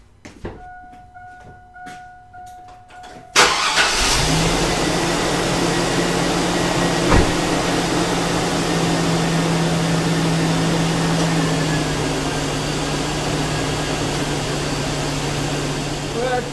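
A 2000 Chevy Tahoe engine with a freshly cleaned throttle body starts after a few quiet clicks, then settles into a steady, loud, even idle that holds to the end.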